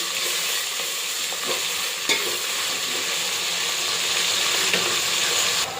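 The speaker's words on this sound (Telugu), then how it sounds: "దాంట్లోకి అల్లం పేస్ట్ వేసుకున్నాము, నీట్గా కలిపేసుకున్నాము." Ginger paste frying with onions in a pan keeps up a steady, close sizzle, with scraping stirs and a few sharp clicks of the spoon and no talking.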